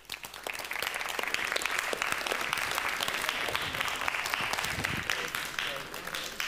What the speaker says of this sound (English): So give yourselves a huge round of applause.